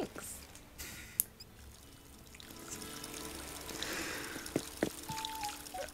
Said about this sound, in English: I left the water running for you.